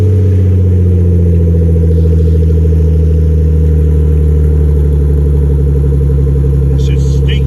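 A 1995 Nissan 240SX S14 with no catalytic converter runs close by, a loud, steady engine drone with a deep exhaust rumble holding an even pitch throughout, with faint voices barely audible near the end.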